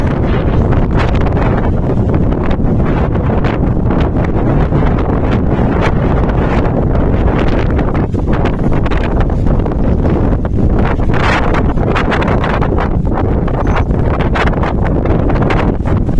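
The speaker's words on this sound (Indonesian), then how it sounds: "di pos 3, kami disambut oleh angin yang sangat besar" Strong, steady wind roars across an open mountain trail post, buffeting the microphone with constant loud rumbling gusts throughout.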